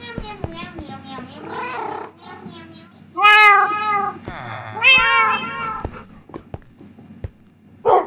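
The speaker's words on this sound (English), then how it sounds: "that's one of my cats somewhere" A cat meows during a Minecraft session, giving several drawn-out, wavering cries of rising and falling pitch that stand out loud and close, with quieter clicks and rustles between them.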